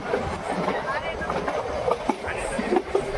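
The Ooty toy train leaving the station rumbles along steadily with rhythmic clicks and clanks of the wheels, heard from inside a carriage amid a low murmur of voices.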